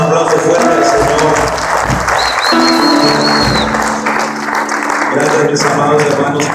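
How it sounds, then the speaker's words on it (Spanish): A church congregation bursting into loud, sustained applause, dense clapping filling the room throughout with crowd noise and voices mixed in. "Démosle un aplauso fuerte al Señor."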